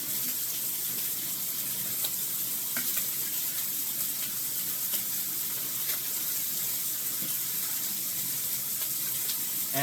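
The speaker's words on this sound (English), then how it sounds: "Get some tongs right here so we can flip our bacon." Bacon sizzles and crackles steadily in a 14-inch Toutrop wok/pan hybrid, a dense hiss of frying fat with a few faint taps from tongs flipping the strips, close and continuous.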